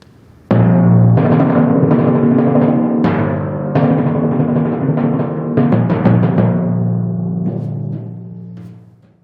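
A series of sustained timpani rolls on different pitches, each ending with a clean release before the next begins, fading out at the close.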